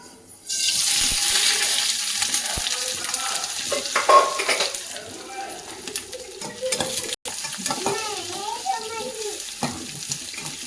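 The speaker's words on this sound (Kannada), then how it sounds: "ಈ ಸ್ವಲ್ಪ ಒಗ್ಗರಣೆ ಫ್ರೈ ಆಗಲಿ" A tempering of mustard seeds, two dried red chilies and a chopped medium onion fries in hot oil with a dense, continuous sizzle and hiss, broken by occasional stirring and clatter nearby. Faint voice sounds surface briefly.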